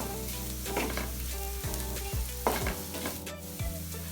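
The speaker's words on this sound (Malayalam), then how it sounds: "ഇനി നമുക്കിതെല്ലാം കൂടെ ഒന്ന് ഇളക്കി യോജിപ്പിക്കാം" A spiced onion mixture with turmeric and pepper is stirred in a frying pan for a clam fry, soft scraping strokes over a steady low sizzle.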